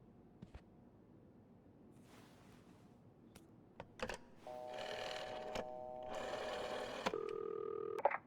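Telephone dialed in a video game: sparse clicks and key taps, then a run of steady electronic tones and beeps toward the end over a low hum, moderately quiet, with no voices.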